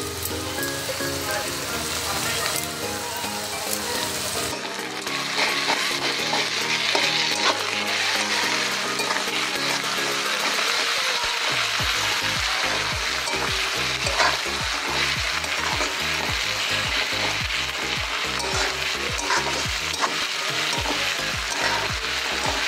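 Ginger garlic paste and spices fry for a mutton dish, a loud, dense, crackling sizzle filling the whole stretch, with rhythmic stirring scrapes against the pan growing more regular in the second half.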